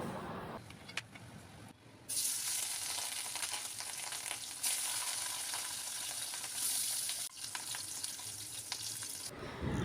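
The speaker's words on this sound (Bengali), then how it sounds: "এগুলোকে নুন হলুদ মাখিয়ে তাড়াতাড়ি ভাজতে বসাই" Steady, crackling sizzle of fish coated in salt and turmeric frying in hot oil, loud and close, with brief dips and surges in intensity.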